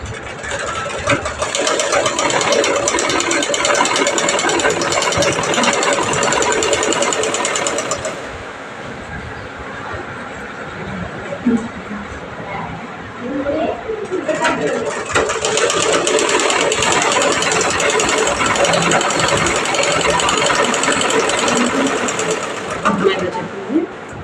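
A sewing machine stitching fabric in steady runs, loud and close, pausing briefly midway before starting again, with a person talking over parts of it.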